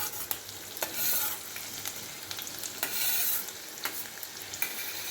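Garlic, ginger, green chili and curry leaves sautéing in hot oil with fennel and cumin for capsicum gravy: a continuous bright sizzle that swells in waves as a spoon stirs, with occasional scraping taps against the pan.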